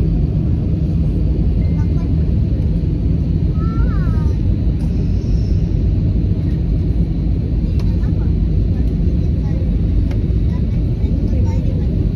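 Airliner cabin during the landing approach to Boracay, with a constant loud low engine rumble filling the whole stretch while faint voices sound underneath.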